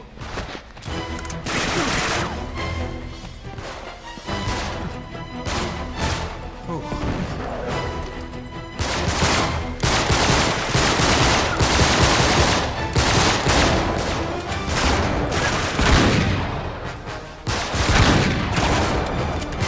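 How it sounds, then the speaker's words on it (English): Gunfire in the video game Uncharted 3, with dense, repeated bursts of shots and crashing impacts throughout, loud and close, while players talk over the action. "Shoot the guy that's shooting us"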